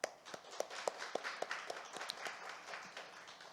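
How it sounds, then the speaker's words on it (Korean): Congregation clapping at a Christmas thanksgiving church service, scattered sharp claps that start strong and thin out into looser, softer clapping, somewhat distant in a quiet room. "우리 하나님께 영광의 박수합니다"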